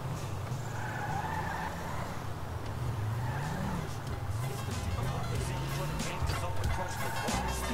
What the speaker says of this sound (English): I'm driving back to my crib